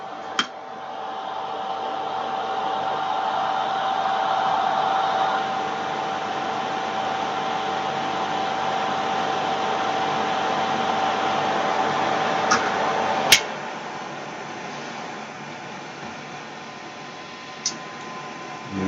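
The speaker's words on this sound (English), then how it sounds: "Right, extractor on." A small fan-driven fume extractor runs steadily at a bench while an old Roberts Rambler radio is being restored, giving a broad constant whoosh with a faint tone, then quieter after about 13 seconds, with a couple of sharp clicks.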